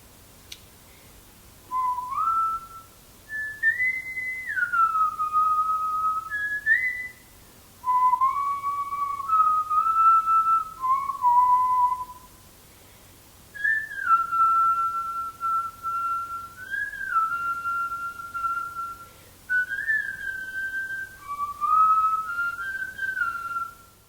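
A father whistles a slow, wandering melody alone, clear sustained tones sliding between pitches in phrases separated by short breaths.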